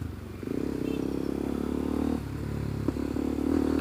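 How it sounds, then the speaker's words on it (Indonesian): BMW motorcycle fitted with a custom exhaust, revving at close range with a deep, rounded, loud note that holds steady and builds slightly toward the end, with some clatter. "kenceng gitu suara knalpotnya, dan menurut gue lumayan bulat."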